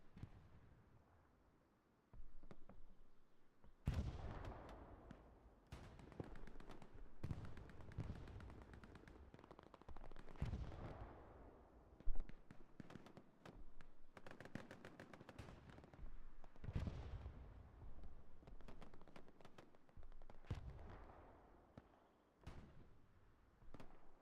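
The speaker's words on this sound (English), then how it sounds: "And artillery is doing work on this program here." Artillery and small-arms fire in the World War II shooter Hell Let Loose: sharp gunshots and heavy booming impacts crack at irregular intervals, some near and some distant, with quieter gaps between the barrages.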